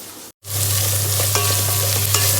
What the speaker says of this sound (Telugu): ఆనియన్, పచ్చిమిర్చి ఇలా బ్రౌన్ కలర్ వచ్చే వరకు ఫ్రై చేసి